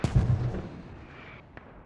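Mortar rounds in the shooter Squad land with a sharp, heavy boom that rolls off into a long fading echo, then a second crack comes near the end, loud and without talk.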